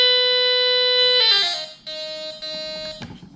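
Steady electronic tone from a Dr Otek MT-12 metal detector in pinpoint mode, loud and close, holding one pitch before shifting and warbling, then a second steady tone that cuts off near the end.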